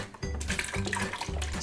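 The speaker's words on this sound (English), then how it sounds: "I'm gonna add just a little bit of some chicken broth, maybe a cup's worth, just to liquefy this." A short, faint splash of chicken broth being poured into a big pot of kale soup, with a slight clatter of cookware.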